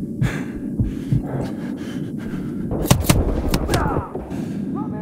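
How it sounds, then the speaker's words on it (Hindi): Shotgun fire in Call of Duty: Modern Warfare Remastered, several sharp blasts and bursts in the middle of a busy, rumbling firefight with dull thuds throughout. "शॉटगन चला रहा है वो।"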